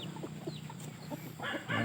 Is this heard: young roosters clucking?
yes